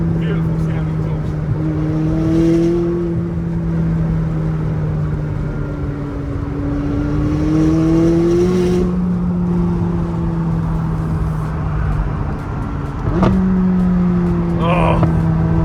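A McLaren 600LT Spider engine revs and the exhaust note rises and falls over a sustained close drone, with a sharper burst late on.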